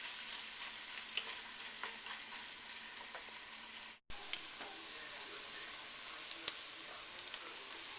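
Meat for cornbread dressing fries in a pan with a steady, dense sizzle and crackle, occasional stirring scrapes and a brief dropout midway, moderately close and without talk.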